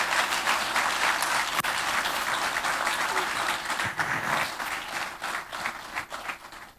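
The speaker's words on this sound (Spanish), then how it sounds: "Si vas a aplaudir, aplaude." Church congregation during a sermon breaks into loud, sustained applause, dense clapping that holds steady and then slowly tapers off toward the end.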